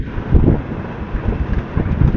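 Cold wind gusting on a rural road past cornfields near a watershed park in Tumauini, Isabela, a steady broadband rush with buffeting microphone noise, no talking.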